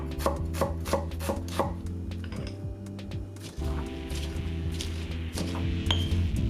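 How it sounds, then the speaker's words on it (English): A knife roughly chopping a shallot on a cutting board, starting with a quick run of crisp evenly spaced chops, then scattered irregular cuts and board knocks, close and clear. "Next, I've got a shallot. I'm just going to roughly chop that and throw it on in."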